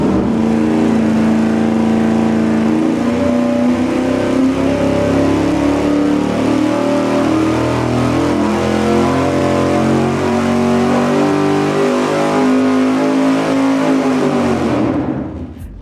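High-performance engine on a dyno during a shootout, making a loud sustained roar that climbs steadily in pitch through the pull and then cuts off sharply at the end.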